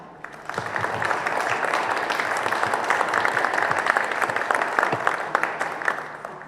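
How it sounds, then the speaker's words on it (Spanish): An audience at a talk on the cultural heritage of Zacatecas' historic roads applauds, the clapping swelling up within the first half second and then holding a steady, moderately loud patter of many hands to the end. "quisiera que les diéramos un aplauso"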